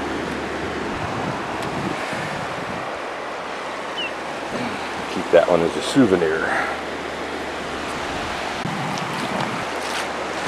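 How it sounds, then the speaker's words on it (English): Gentle ocean waves washing onto a beach near Broome, Australia, in the early morning: a steady broadband surf hiss with wind noise on the microphone, and a person speaking briefly in the middle. "Compared to the waves breaking on the beaches in the southern coast, these are almost languid"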